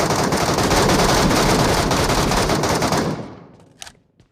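Rapid automatic gunfire in the video game MetroRoyale, a loud dense burst of continuous shots lasting about three seconds before cutting off, followed by a few faint clicks and thuds.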